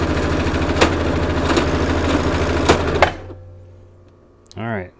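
A sewing machine running with its thread looping under the fabric, a steady rapid mechanical whir with regular ticks for about three seconds before it stops, then a voice speaks briefly.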